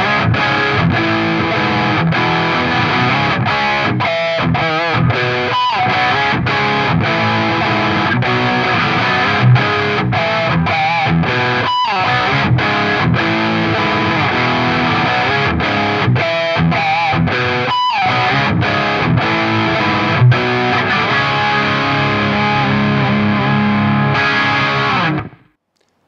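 A distorted electric guitar plays through a 4x12 amp cabinet, miked with two dynamic microphones and left unprocessed, with steady loud riffing for about 25 seconds that stops abruptly at the end.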